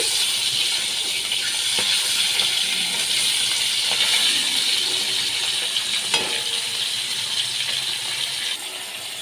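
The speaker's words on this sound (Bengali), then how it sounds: "বাদ বাকি মাছগুলোও আমি ভেজে নিচ্ছি" Bhola fish pieces frying in hot oil for a mustard-paste fish dish, giving a steady, close, continuous sizzle and hiss with occasional small pops and crackles throughout.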